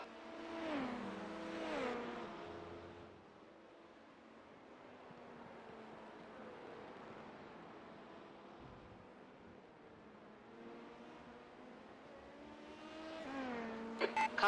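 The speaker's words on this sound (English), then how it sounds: "Faster cars approaching." Race cars pass on a circuit during a race, engines rising as they approach at the start and again at the end, with a quieter stretch of distant engine drone in between, heard from inside a car.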